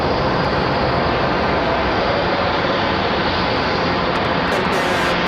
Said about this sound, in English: The American 777 coming in and blocking in.